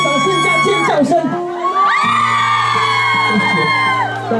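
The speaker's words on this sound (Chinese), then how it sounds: "再给自己一个掌声加尖叫声" An outdoor concert crowd at a summer evening event in Qingshui, Taichung, cheering with loud whoops and high screams, rising to a sustained roar partway through, with a voice carrying over the din.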